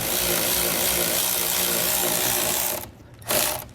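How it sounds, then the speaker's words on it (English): Rapid ratchet clicking while removing the four inside bolts on the equalizer of a 2014 Jayco Pinnacle fifth-wheel trailer, a steady close mechanical whir that cuts out briefly near the end, then a short burst resumes. "So we'll go ahead and start by removing the 4 bolts on the inside of our equalizer."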